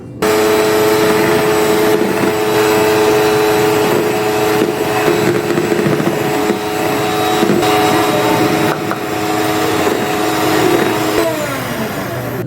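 A mixer grinder roars steadily while grinding rice into powder for a Christmas plum cake, a loud and constant motor whine that stays close for the whole stretch with no voices.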